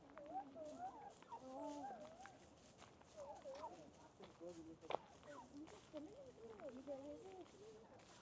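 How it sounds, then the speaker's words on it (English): Wild turkeys gobble faintly at a distance outdoors in repeated warbling calls, with light rustling steps in the background. "These large birds are wild turkeys."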